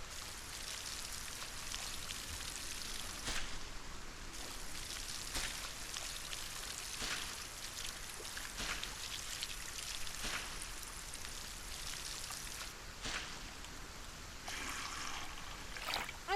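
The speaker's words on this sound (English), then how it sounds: "At least we have access to rain." Steady rain falls throughout in the video game Solarpunk, a continuous broadband hiss of drops and trickling water with a few brief louder spatters, fairly close and alone without talk.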